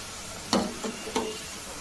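Pakoda fritters made with chagate leaf batter fry in hot oil with a steady soft sizzle, broken by two brief sharper crackles as pieces are stirred or turned.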